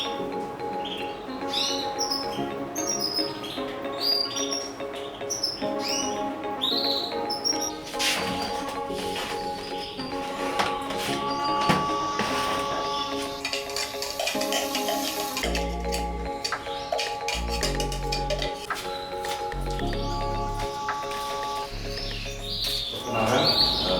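Many canaries chirping and trilling at a canary breeding farm, a dense, busy chorus of bright tweets and whistles close by, continuing throughout with some low thumps and background noise.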